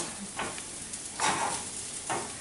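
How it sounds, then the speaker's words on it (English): Steady crackling sizzle of food frying in a pan, with occasional louder swells as it is stirred. "Can you hear that sizzle in the frying pan?"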